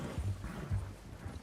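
A horse in the video game Red Dead Redemption 2 moves with soft, rhythmic low hoof thuds, heard alone and close.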